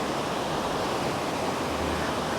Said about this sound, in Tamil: இது தண்ணி சவுண்டு மட்டும் அப்படியே நமக்கு காதுக்கு அப்படியே கேட்டுகிட்டே இருக்கும்.